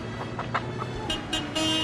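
A car horn gives several short toots in quick succession against a low engine rumble, fairly close by.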